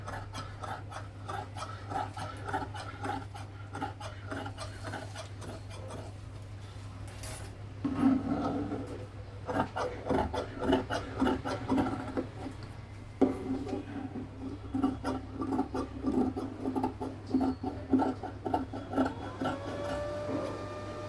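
Fabric being cut with scissors, a soft rasping and scraping that comes in irregular bursts under a steady low hum, close and fairly quiet, with no talking.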